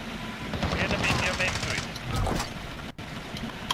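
Rapid SMG bursts in the Call of Duty video game, a fast stuttering rattle of close-range automatic fire with a short pause near the end, heard beneath people talking.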